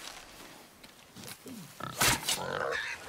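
A wild boar in the video game God of War grunts and snorts, several rough, close grunts rising toward a louder burst near the end, with a voice speaking faintly around them.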